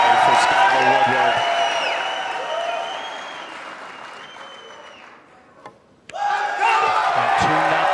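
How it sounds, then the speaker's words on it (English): A crowd at a Mosconi Cup pool match at Mandalay Bay roaring and applauding loudly, with whistles, fading down before a fresh burst of clapping and cheering. "The crowd letting you know what's happening here at Mandalay Bay"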